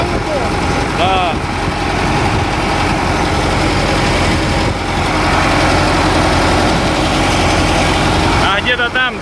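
A Kamaz truck diesel engine with a knocking fault runs steadily at idle, close and loud, during a roadside repair, with voices talking over it throughout.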